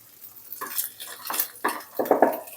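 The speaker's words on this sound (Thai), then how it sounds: "ค่ะยีไข่ให้สุกเลยค่ะ" Eggs are scrambled in a frying pan with a utensil, several sharp scrapes and clinks against the pan in irregular bursts over a soft background sizzle, close by and without speech.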